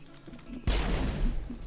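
Mass Effect gunfire bursts in abruptly after a quiet moment, a loud, dense rattle of shots that keeps going to the end.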